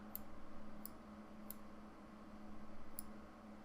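Sparse, faint clicks on a computer keyboard, four isolated sharp taps spread over a few seconds above a quiet low hum, with no voices.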